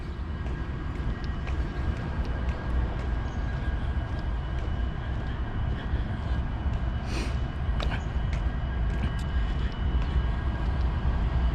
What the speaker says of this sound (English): I hear the train moving.